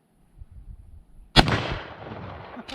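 A single sharp gunshot from a Colt Lightning large frame rifle rings out loud and close after a brief stretch of quiet handling noise, its report decaying over about a second.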